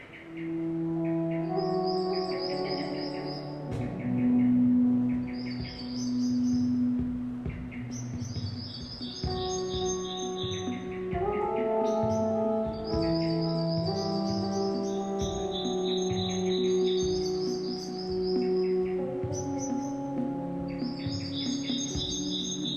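Layered loops of chirping and tweeting birds form a dense canopy-like texture, with overlapping calls and melodic trills repeating steadily alongside a soft insect-like buzz.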